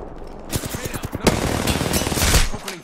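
Rapid automatic gunfire rattles loudly in an Apex Legends match, a fast burst of close shots followed by dense continuous firing and impacts, with no pause in the shooting.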